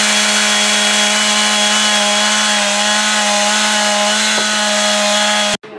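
A chainsaw runs steadily at high revs with a strong buzzing whine, loud and close, before cutting out abruptly at the very end; no talking over it.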